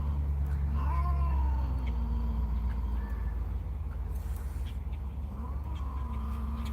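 Cats meow and yowl outdoors near a grill, drawn-out wavering caterwauls rising and falling over several seconds, loud and close above a steady low background rumble.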